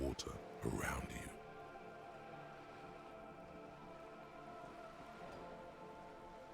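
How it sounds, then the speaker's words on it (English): Rain falls steadily on wooden boards and surrounding water in the video game Disco Elysium, a constant close hiss that follows a brief louder burst at the start. "All around you, rain keeps falling down. On the wooden boards she's standing on, and on the water around you."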